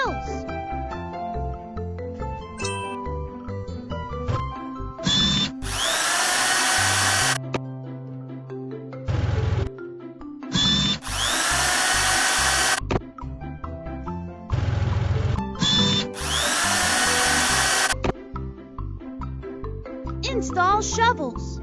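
A drill attachment on a cartoon JCB bulldozer whirs in three loud, sustained bursts, separated by clanking mechanical effects and cartoon sounds.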